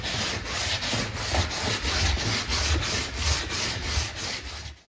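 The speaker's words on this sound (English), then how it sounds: "I just attach sandpaper to a wooden block." Sandpaper fixed to a wooden sanding block rubs back and forth in steady, close, rhythmic strokes, a continuous raspy scraping with regular pulses, used while shaping N-scale model railroad roads and sidewalks.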